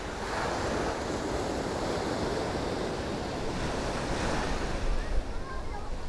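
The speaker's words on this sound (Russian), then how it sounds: "Ну и волны, видите, какие волны. Достаточно сильные волны." Strong sea waves roll onto Cleopatra Beach in Alanya, Turkey, making a continuous, loud surf roar with gusting wind noise across the microphone and no pauses.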